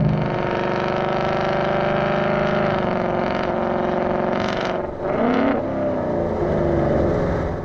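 A 2018 Mustang GT with a Flowmaster Scavenger exhaust and resonator delete runs close by, its loud rumbling exhaust held steady and then blipped twice in quick revs near the end, with no talking.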